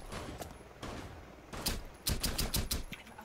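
Gunfire in Rainbow Six Siege comes as sharp, close shots, scattered at first and then a quick rattling burst near the end.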